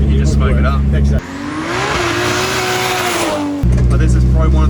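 A 1400-horsepower 4.2-litre stroker Barra street car accelerates hard, its engine rising in a loud, strained roar that climbs in pitch for a few seconds before easing, heard from inside the cabin with people talking over it.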